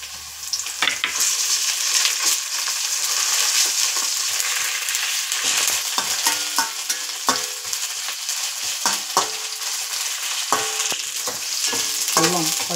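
Onions, green chili and ginger sizzling in hot oil while being stirred, a loud steady frying hiss broken by repeated scraping and clanking strokes of a spoon against the pan.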